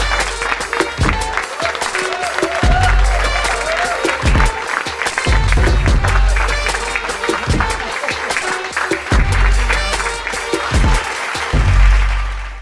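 Audience applause welcoming a rapper and singer onto a talk show, loud, sustained dense clapping from a studio crowd with a few cheers, swelling toward the end.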